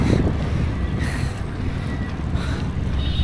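Strong headwind buffets the microphone of a cyclist on a long-distance ride across India, a steady loud roar of rumbling gusts with no voice over it.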